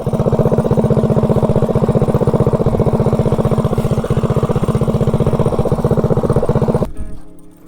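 A Predator 224 mini bike engine strains against a slipping clutch on a climb up a driveway, its loud, rapid pulsing drone holding steady before cutting out and fading away at the end.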